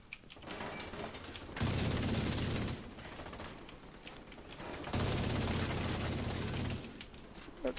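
Gunfire in The Division 2, two long sustained bursts of heavy automatic fire close by, separated by a stretch of quieter distant shooting and crackle.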